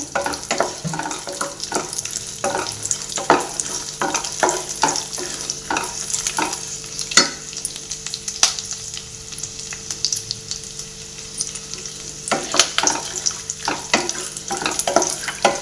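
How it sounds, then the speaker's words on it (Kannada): Raisins fry in a pan for a rava laddu sweet, a steady sizzle broken by frequent sharp clicks and scrapes of a spoon stirring, with no voices. "ದ್ರಾಕ್ಷಿ ಎಲ್ಲ ಅಲ್ಲಿವರೆಗೂ ಫ್ರೈ ಮಾಡಬೇಕಾಗುತ್ತೆ ನಾವು"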